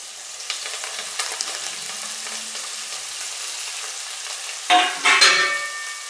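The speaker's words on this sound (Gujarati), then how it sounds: "આપણે અળવીના પાન સુધાર્યા હતા એ નાખી દઈશું વઘારમાં." Chopped colocasia leaves hit hot oil with asafoetida and tomatoes, giving a low steady sizzle with faint stirring, then a sharp louder burst of frying near the end.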